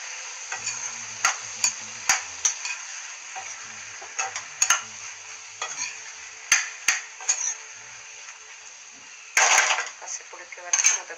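A spoon stirs a simmering tomato and cucumber curry in a pot, giving irregular knocks and scrapes against the metal over a steady hiss of cooking.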